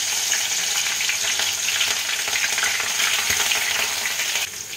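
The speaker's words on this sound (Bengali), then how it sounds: "তেলটা গরম হয়ে গেলে আমি দিয়ে দেবো কালো জিরে একটু, আর দেবো কুচনো কাঁচা লঙ্কা।" Nigella seeds and chopped green chilli fry in hot mustard oil, a loud, dense, continuous crackling sizzle close by that eases slightly just before the end.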